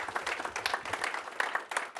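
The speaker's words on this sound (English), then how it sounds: "Let me thank the panel with a big applause, please" Audience applause for a panel at a policy seminar on food system transformations: dense, steady clapping from many hands, moderately loud and continuous for about two seconds, with no voices over it.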